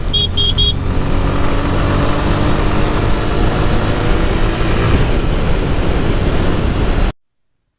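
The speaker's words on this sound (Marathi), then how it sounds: "आणि विरारला सुद्धा ट्रॅफिक आहे पण रस्ता सुद्धा खराब झालेला आहे त्याच्यामुळे ट्रॅफिक आहे" Loud, continuous roar of road traffic, cars and motorcycles, on a damaged road in Virar, with engines and heavy wind buffeting, as if recorded from a moving vehicle; a brief horn-like beep near the start.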